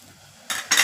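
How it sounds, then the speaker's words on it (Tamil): A lid goes onto a pot of onions and tomatoes simmering on the stove, giving two quick metallic clinks close by, the second louder, after a moment of quiet. "அதுக்கு இப்போது ஒரு மூடியை போட்டுக்கிறேன்"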